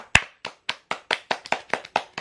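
A short run of about a dozen hand claps at a birthday celebration, close and fairly regular, starting with a sharp single clap and picking up pace.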